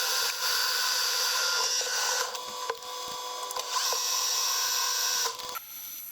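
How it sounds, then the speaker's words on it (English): Metal lathe facing 85mm steel stock held in a fixed steady, a continuous bright whining cut with steady tonal hum, briefly interrupted by a few clicks and dips, then stopping abruptly near the end. "I've got to face it and centre drill it with fixed steady instead."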